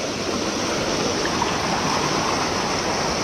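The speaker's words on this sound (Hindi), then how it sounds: "ये उसी वाटरफॉल का एक पार्ट है, जिसको अभी मैं आपको ऊपर से दिखा के आ रहा हूँ।" Waterfall near Rishikesh, Uttarakhand, at a rafting point: a steady, loud, broadband rush of falling and streaming water, constant and close throughout with no voices.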